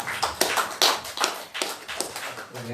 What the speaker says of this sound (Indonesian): Tepuk tangan sekali lagi buat Bapak Tantan.